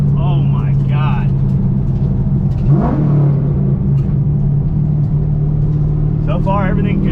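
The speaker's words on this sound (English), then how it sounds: "That's a 3rd gear pull. This car is gonna be nasty." A fixed Nissan 350Z pulls hard in third gear, its engine a steady low rumble and whir with one swelling surge partway through. Voices talk excitedly over it from inside the car.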